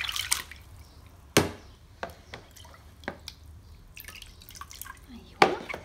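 Water drips and splashes in short, scattered bursts as a guinea pig is rinsed in a bowl of cleaner water, with a few sharper splashes standing out against a quiet background.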